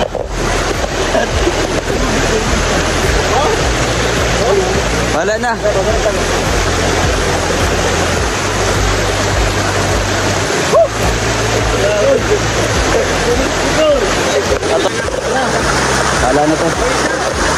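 A rain-swollen river's strong current churns loudly and continuously with a heavy low rumble, and a voice briefly speaks over the roar.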